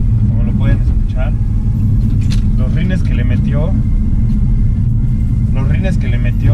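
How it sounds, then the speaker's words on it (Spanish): A BMW M4 with aftermarket exhaust idles with a deep, steady low rumble close by, continuous throughout while someone talks over it. "Este ya trae escapes, como lo pueden escuchar."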